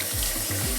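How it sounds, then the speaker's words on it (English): Cold water runs from a kitchen tap to rinse a cup of white rice, a brief, steady, close hissing splash with low gurgles. "Turn on the cold water,"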